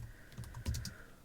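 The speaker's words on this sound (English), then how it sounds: "I can type the rest of these." Quick typing on a computer keyboard, a handful of soft, close key clicks in a short burst with one louder thump, heard alone against quiet room tone.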